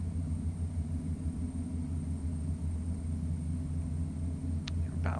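The twin turboprop engines of a Beechcraft B1900D idle in the X-Plane 11 flight simulator, a steady, low, droning rumble with a faint whine that continues evenly, with one brief click near the end.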